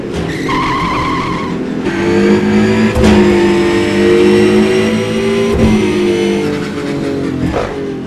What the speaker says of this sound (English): sound effects, the engine sounds, they're all incredible.